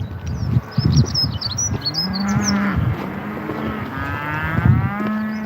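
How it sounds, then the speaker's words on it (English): Cows moo on a morning countryside walk, several long low calls in succession at a moderate distance, with birds chirping faintly above. "The cows are mooing."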